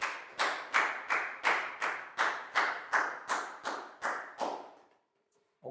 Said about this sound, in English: High five and a big round of applause for Preo,